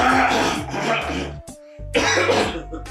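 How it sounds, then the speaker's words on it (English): A few short, harsh coughs break through steady background music, with a brief quiet gap midway before the music resumes. "What's that coughing for?"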